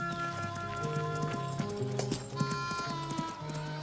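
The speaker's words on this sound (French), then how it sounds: "Eh, mon cheval, mais reviens!" A horse galloping away, its hooves clip-clopping in a quick steady rhythm over a cartoon western music score, with a faint whinny.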